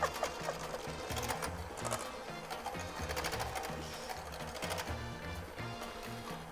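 An electric mixer beats eggs until foamy for an apple cake, giving a steady, close mechanical whir with rhythmic rattling that runs without a break through the whole stretch.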